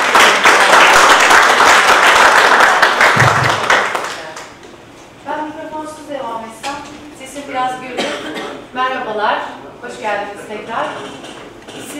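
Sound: audience applause welcoming speaker on stage

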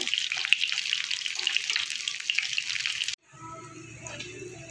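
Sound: banana flower fritters frying in oil

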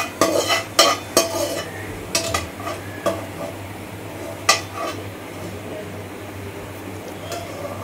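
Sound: roasting cumin in hot mustard oil

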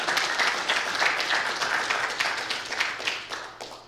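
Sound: audience clapping in church

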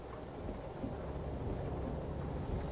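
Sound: rain in Euro Truck Simulator 2 video game

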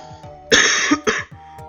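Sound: person coughing

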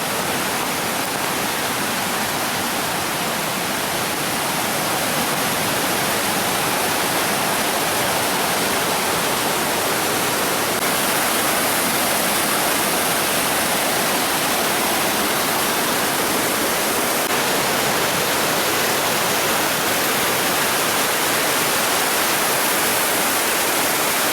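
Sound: Irpu waterfall in Coorg

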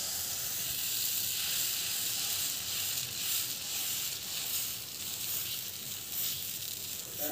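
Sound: dosa batter sizzling on a hot pan

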